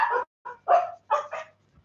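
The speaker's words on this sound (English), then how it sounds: "hold on, because Chip's barking" A dog barks in a short indoor run of five or six sharp, close barks with brief gaps between them, fairly quiet overall and with no talking over it.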